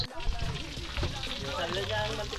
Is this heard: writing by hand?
no